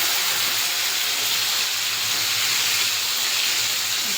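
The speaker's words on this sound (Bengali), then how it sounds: "মাছের ওদিকটা হয়ে গেছে, এবার ওদিকটা ভেজে নেবো।" Amudi fish turned over and frying on its second side in hot oil in a wok, giving a continuous even sizzling hiss, close and unbroken.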